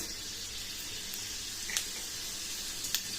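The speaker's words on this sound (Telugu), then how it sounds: "ఇప్పుడు వెల్లుల్లి కాస్త కలర్ మారిన తర్వాత మనము ఆవాలు, జీలకర్ర, మినపగుళ్ళు వేసుకోవాలి" Garlic, mustard seeds, cumin and urad dal fry in hot oil for a tempering, giving a steady, close hiss of sizzling with a couple of brief sharp pops.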